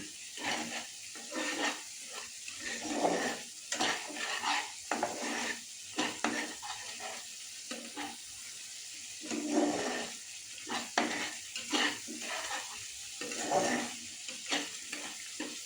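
Spice paste with sugar stir-fried in a pan: bursts of sizzling alternate with repeated spatula scrapes and clinks against the metal, close by, in an uneven rhythm with no talk.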